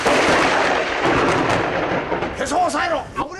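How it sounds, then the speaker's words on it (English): Thunder from a lightning strike on a beer cafe in a film rolls as a loud, broad rumble for a couple of seconds, then voices break in over the fading tail. "witness lightning striking a beer cafe"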